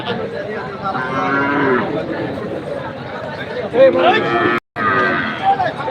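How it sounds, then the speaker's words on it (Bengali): Cattle moo repeatedly amid a busy outdoor crowd at the Choubaria cattle market, with people chattering nearby and a loud close lowing toward the end. "অল্প দামের এই গরুগুলি কিন্তু কিনে এখানে রেখেছে"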